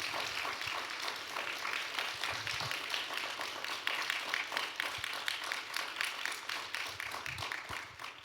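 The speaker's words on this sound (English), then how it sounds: "Can we have a round of applause for these folks?" An audience gives a round of applause at a panel discussion on abortion after Roe, many hands clapping steadily and fairly loud for several seconds, with no talking over it.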